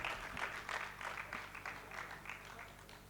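Audience applause at a Kavi Sammelan poetry gathering celebrating a 68th birthday, a steady, moderately loud wash of clapping that carries on for a few seconds with small swells.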